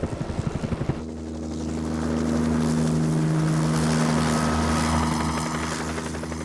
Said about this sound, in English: The chopper spins in response to the pilot depressing one of 2 foot pedals.